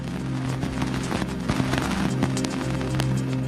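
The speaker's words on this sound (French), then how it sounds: "Voici le bruit des poussières heurtant l'antenne de l'engin." Dust particles striking the antenna of the Cassini probe near Saturn's F ring, converted to audio: a dense crackle of irregular pops and clicks over a steady hum, with scattered sharper impacts throughout.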